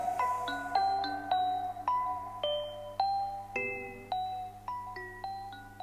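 Bell-like mallet tones from a song form a plucked, xylophone-like melody of a dozen or so bright struck notes, each decaying quickly over a low steady hum, clear and moderately loud.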